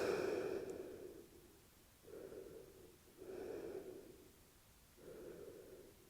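Slow, deep breaths during a yoga pose, four drawn-out inhales and exhales spaced a second or two apart, soft and close with quiet pauses between.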